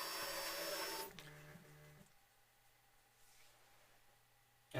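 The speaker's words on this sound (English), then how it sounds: "first it'll do the calibration to make sure that it's got is printing within the area of the print bed." A Prusa i3 MK3+ 3D printer runs its bed calibration routine, with a brief loud noisy burst, then a short series of soft stepped motor tones, and afterward a faint steady hum.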